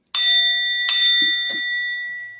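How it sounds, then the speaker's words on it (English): Ritual bell struck twice in quick succession, each strike ringing out with a clear, sustained metallic tone that lingers and slowly fades in a quiet room, with a couple of soft handling knocks after. "And ring the bell twice."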